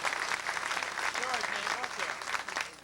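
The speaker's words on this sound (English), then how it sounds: "How about a round of applause for Jason?" Dense, steady applause fills a drum clinic hall from start to finish, with a few voices and shouts rising briefly above the clapping partway through.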